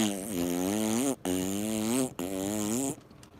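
A person imitates an air-cooled Volkswagen Beetle exhaust with three buzzing, puttering voice bursts separated by short breaths, close and fairly loud.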